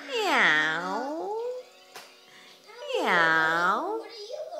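A voice imitates a cat's meow twice, drawn-out rising and falling calls close to the microphone with a short quiet pause between them.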